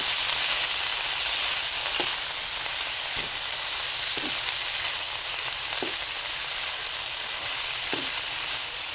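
Pako fern greens frying in a pan give a loud, continuous close sizzle, with a few soft scrapes of a spatula stirring at intervals and no voices.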